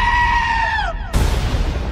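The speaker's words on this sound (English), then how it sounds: "Sorry, little goat." A goat bleats loudly and close, one long wavering cry that bends downward before cutting off, followed by a burst of broad noise.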